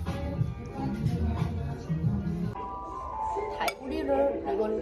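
Cups clink together in a toast at a cafe, a few bright glassy or ceramic knocks heard amid lively conversation and table clatter, with people talking throughout.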